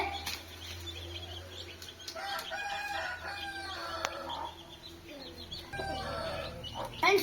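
Mother hen with chicks in a rural yard, close clucking and short calls in bursts, with soft chick peeps, rooster-like cries and quiet background activity.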